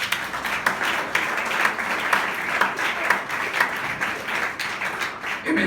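Church congregation applauding during a thanksgiving service, a dense sustained wash of many hands clapping at once, loud and filling the room for several seconds.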